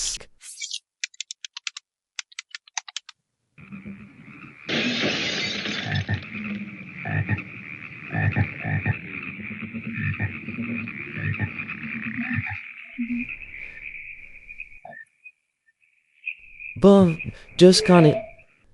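Frogs croak in a 1972 eco-horror film, heard as a steady chorus of rhythmic croaks under a narrating voice, followed by a few separate, louder croaks near the end after a pause.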